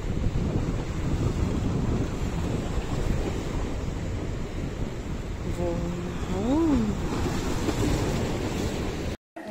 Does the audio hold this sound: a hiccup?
no